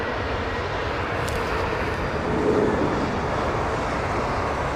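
A Boeing 777 airliner at London Heathrow, a steady, loud broadband engine roar that swells slightly midway, with no voices.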